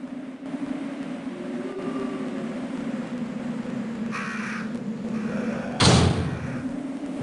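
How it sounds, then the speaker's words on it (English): A door in the Resident Evil 3 PlayStation game opens with a single heavy thud near the end, set against an eerie ambient drone with repeated crow caws. "Through the door we go."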